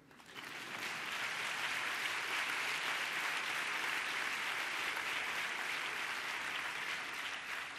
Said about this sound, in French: Applaudissez plus fort.